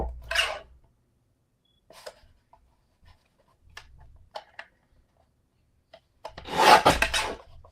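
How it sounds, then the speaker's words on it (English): Cardstock for a stencilled card is trimmed down in several separate close rasping strokes, with quiet pauses between them and a longer, louder cut at the end. "I need to trim this down a little more because I'm framing this one"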